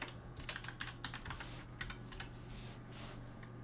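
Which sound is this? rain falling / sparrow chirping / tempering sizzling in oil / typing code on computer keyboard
typing code on computer keyboard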